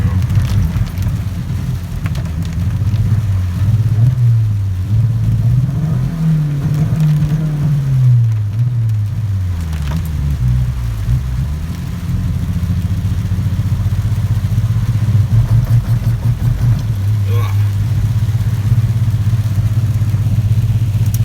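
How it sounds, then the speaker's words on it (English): A turbocharged Honda Civic's loud engine idles roughly while misfiring, its low rumble wavering and stumbling unevenly throughout. "Misfiring the whole time now."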